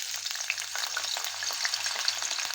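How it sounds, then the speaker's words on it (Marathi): Chopped potatoes fry in hot oil in a kadai, giving a steady, close crackling sizzle with dense popping bubbles and no voices, a faint low hum pulsing underneath. "ते बटाटे आपण या तेलामध्ये फ्राय करून घेणार आहे"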